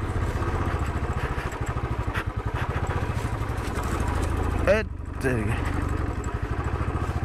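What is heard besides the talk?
motorcycle engine straining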